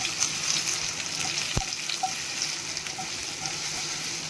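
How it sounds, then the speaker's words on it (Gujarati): Patra pieces are stirred as they fry in a pan over the stove, giving a steady close-up sizzle with light scraping and stirring noise and a faint watery hiss running through. "આ રીતે આપણે ઉપર કરીને હલાવી લેશું બધા ઢોકળાને"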